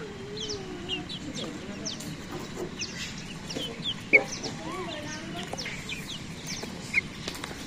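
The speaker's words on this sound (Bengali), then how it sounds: "সবটাই মোরগ।" Roosters and chickens at a village homestead clucking and calling repeatedly, with a couple of sharper, louder calls standing out over a busy rural background of other birds.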